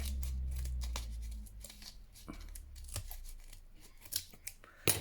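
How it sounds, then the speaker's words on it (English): Scissors snip and trim ragged fabric edges around a handmade book cover for a junk journal, giving a run of close, crisp cuts with rustling and crinkling between them and a louder snip near the end. "just trim off any raggedy bits that you might have on there from that fabric"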